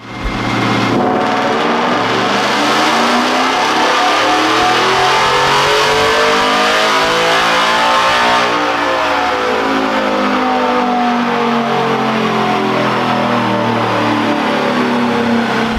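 A 2022 Ford F-150 Gen 4 Coyote V8 with a tune, long tube headers and cold air intake revs hard on a dyno, its loud roar sweeping up in pitch, dipping and climbing again with no talk over it.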